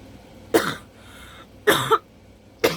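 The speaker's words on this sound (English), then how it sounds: "it's left me with a cough" Three separate coughs from a woman recovering from illness, one near 0.5 s, a double cough around 1.7 s, and another at the end, sharp and close with quiet pauses between.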